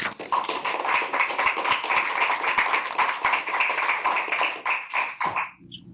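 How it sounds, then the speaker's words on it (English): An audience applauds a presenter at a public event, many hands clapping in a lively, irregular patter that holds steady for several seconds before fading out, with a faint voice at the very end. "Please give a round of applause for Ben."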